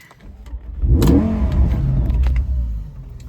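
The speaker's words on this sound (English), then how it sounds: "Let's fire her up." A 2010 Audi R8 V10 Spider engine cranks and fires up close by, then revs loudly and settles into a high, buzzy rumble with no talking.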